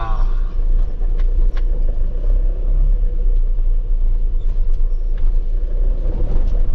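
A vehicle drives onto a weighbridge, its engine producing a loud, steady low rumble close by that continues without break through the whole stretch.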